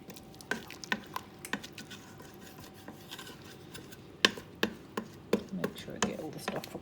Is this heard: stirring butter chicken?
yes